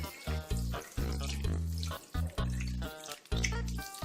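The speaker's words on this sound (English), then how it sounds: "You're gonna have to want to wash your hands like this. Be sure to use a lot of soap." Water running from a kitchen sink tap while hands are washed with soap, a loud close splashing stream broken by repeated pulses as the hands move through the flow.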